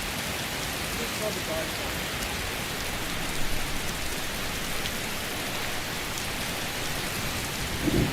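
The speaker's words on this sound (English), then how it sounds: "The rain is very loud, but it's realistic." Steady, heavy rain in the video game Skyrim pours throughout, a dense hiss with a faint rumble beneath; a voice speaks briefly over it near the end.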